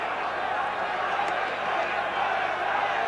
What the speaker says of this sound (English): The match restarts with the crowd cheering to warm themselves up